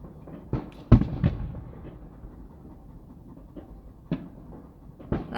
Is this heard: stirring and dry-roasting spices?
no